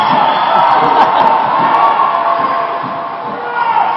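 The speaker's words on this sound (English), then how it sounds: "USA crowd cheering USA, the Australian crowd cheering AUS." A crowd cheers and shouts steadily at a USA versus Australia women's dodgeball world championship match in Cancun, a loud, dense roar with whoops rising throughout.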